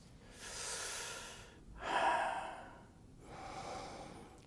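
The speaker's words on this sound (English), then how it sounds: "breathing in deeply" Deep breathing during a kinesiology session, three slow, close, audible breaths: a long inhale, a stronger exhale, then another softer breath, with no talk.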